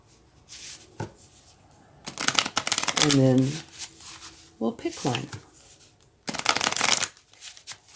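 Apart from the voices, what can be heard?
shuffling tarot cards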